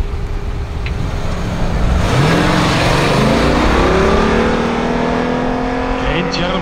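A Jeep Grand Cherokee SRT with 489 PS and a Porsche Cayenne accelerating hard side by side, loud engines roaring and rising in pitch, swelling after a quieter start.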